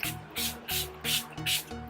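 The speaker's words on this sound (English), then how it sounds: "I'm going to go in with the Milani Make It Last Setting Spray" Milani Make It Last setting spray hisses out in four or five short, airy bursts with brief pauses between them, heard close and alone.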